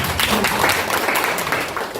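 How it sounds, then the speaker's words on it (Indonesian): Church congregation clapping during a sermon, a brief burst of scattered hand claps under a preacher's voice. "Tepuk tangan buat Tuhan Yesus."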